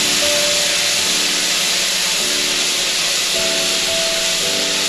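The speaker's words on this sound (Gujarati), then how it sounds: "2-3 ચમચી જેટલું પાણી ઉમેરી દેવાનું છે" Water poured into a hot pan of sizzling potato masala for dahi aloo, giving a steady, loud hiss and steam that fills the whole stretch without any talk.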